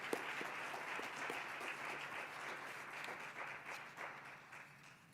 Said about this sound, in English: Let's give a round of applause for Aubrey.